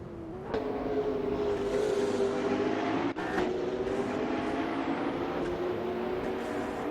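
Hypercars racing at Spa in a racing simulator, with a sustained engine drone and shifting pitch as cars pass, plus a brief sharp interruption midway; steady and fairly loud throughout.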